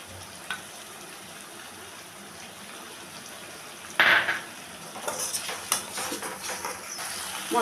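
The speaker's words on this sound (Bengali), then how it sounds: "দিয়ে আরেকটু কষিয়ে নেব। দিয়ে দেব সেই সাথে রাঁধুনি বাটা।" Spice paste with slit green chillies and radhuni paste fries in a pan, a soft sizzle under scraping and clinking stirring strokes that grow busier partway through.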